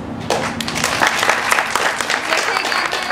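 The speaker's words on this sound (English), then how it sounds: "Let's give them another round of applause." Applause at a camp staff skit during a 2011 campmeeting, steady clapping from a crowd filling the room throughout, with voices mixed into the dense patter.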